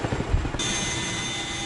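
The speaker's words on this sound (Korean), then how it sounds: "시끄러운 엔진음이 600m 상공에 머물자" A loud aircraft engine drones overhead at about 600 m altitude during a military parachute jump, a steady roar that rises in intensity partway through and continues unbroken to the end.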